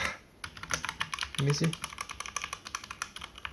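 Brisk, close typing on a mechanical keyboard with clicky blue switches, rapid uneven keystrokes clacking throughout while a voice briefly speaks over them.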